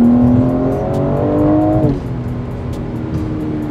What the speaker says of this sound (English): the exhaust notes on turbocharged cars like this